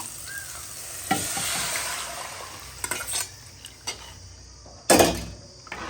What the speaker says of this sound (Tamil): காய்கறி எல்லாம் நல்லா வதங்கிடுச்சு. இப்போ கரைச்சி வச்ச குழம்பு சேர்த்துக்கலாம்.